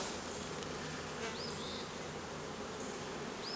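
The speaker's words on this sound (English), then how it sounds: "I don't get all the bees off always" Steady, dense buzzing of many honey bees on a honey super frame close by, continuous throughout with faint higher chirps over the hum.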